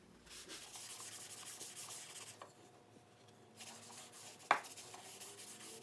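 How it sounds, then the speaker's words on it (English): A blue shop rag rubs dark walnut stain onto a wooden frame for a farmhouse sign, giving soft, steady scrubbing and swishing strokes close by, with one brief sharper knock near the end. "I'm using a blue shop rag in this case to stain my frame."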